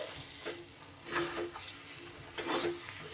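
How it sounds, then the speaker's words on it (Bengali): Dal with ground poppy seed paste being stirred in a pan, a soft low sizzle running throughout with two louder scraping sweeps of the spoon, close and without talk. "পোস্তটা দিয়েও কিন্তু খুব ভালোভাবে আমার নাড়াচাড়া করে নিতে হবে"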